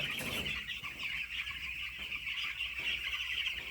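Eleven-day-old chicks in a farm shed keep up a dense, continuous high peeping and clucking chorus, steady and fairly close, with no one talking.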